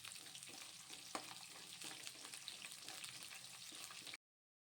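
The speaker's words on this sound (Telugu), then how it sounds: "ఆనియన్స్ వేసుకుందాం వేసుకొని ఒకసారి కలిపేసుకుందాం" Onions frying in a pan for uggani, being stirred: a dense, steady sizzle with occasional scraping strokes, close and fairly loud, ending abruptly in silence near the end.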